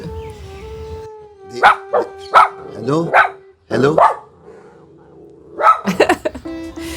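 A dog at home barks in several sharp, loud bursts close by, with yips and a howl-like whine, while a person speaks briefly between the barks.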